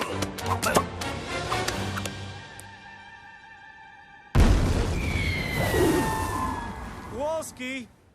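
A loud cartoon blast as penguins fire a weapon, bursting in suddenly after a stretch of music and sound effects, with a rumbling roar that trails off into whistling and squealing effects.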